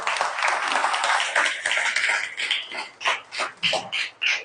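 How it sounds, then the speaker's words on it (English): An audience welcomes a speaker at a private lending investment seminar with applause that starts as full, dense clapping, then thins into scattered, separate bursts that fade out. "Give him a round of applause."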